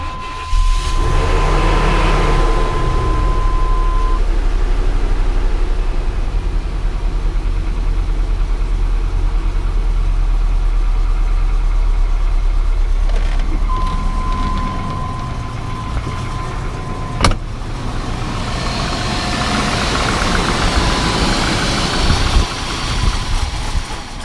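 A 1998 GMC Sierra engine idles after an oil cooler delete, a steady low close rumble running throughout with a brief whine partway and rising rougher noise toward the end.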